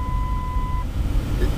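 A single steady electronic beep sounds for under a second over a constant low rumble of background noise.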